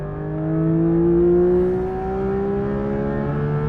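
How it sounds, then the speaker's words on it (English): Porsche 911 GT3 RS (992, 2023) flat-six engine howling on a racing circuit, its pitch climbing steadily through a gear change near the end; loud, close and continuous with no talk. "Oh, wonderful gear changes and that wonderful noise into Beckett's."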